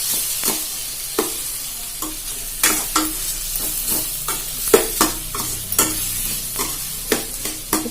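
Vegetables and leftover rice sauté in a pan with a steady sizzle, broken by repeated sharp scrapes and knocks of a spoon stirring, loud and close, with no talking.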